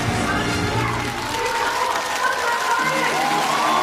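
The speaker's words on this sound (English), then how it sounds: "The crowd is erupting in cheers and applause, waving their flags" Large outdoor crowd at Padang for the National Day Parade 2024 cheering and applauding after a Red Lions skydiving display, a continuous dense roar of clapping and shouts with scattered whistles, steady throughout.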